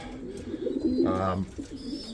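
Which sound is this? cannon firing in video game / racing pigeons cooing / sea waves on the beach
racing pigeons cooing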